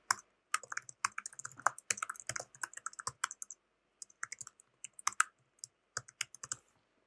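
Someone types on a computer keyboard while filling in checkout details for an online store order, a close, brisk run of uneven key clicks with short pauses between bursts, alone with no voice.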